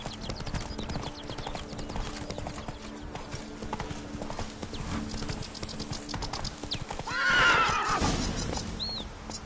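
The horse Roach in The Witcher 3 trots with steady rhythmic hoof clops and tack jingling, then gives a loud, close whinny near the end.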